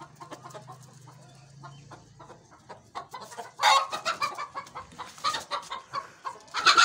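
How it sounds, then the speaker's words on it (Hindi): Chickens cluck and squawk nearby, starting softly and growing busier and louder, with several sharp calls rising near the end. "ये जी देसी मुर्गे"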